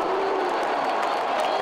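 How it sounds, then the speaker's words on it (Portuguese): A football stadium crowd roars in a steady, dense wash of cheering and clapping, loud and continuous with no single voice standing out. "Cada roubada e chute a gol do Gavião era comemorado com muito entusiasmo pela torcida."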